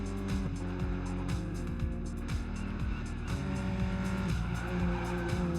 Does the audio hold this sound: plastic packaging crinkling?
no